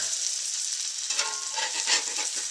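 Breakfast food sizzling steadily in a frying pan just after being flipped, a continuous bright crackle with a few louder spatters, close and alone without talk.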